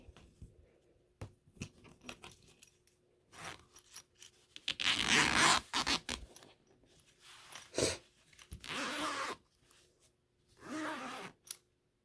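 A metal zipper pull being fitted back onto zipper teeth set in at an angle during bag making, heard as short scratchy rasps and clicks in uneven bursts, close and fairly quiet with no talk.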